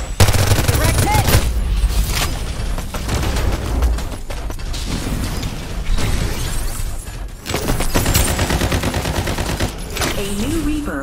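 Dense, loud automatic gunfire in the battle-royale shooter Farlight 84, with near-continuous bursts of rapid shots and impacts filling the whole stretch, brief gaps between volleys and faint voices underneath.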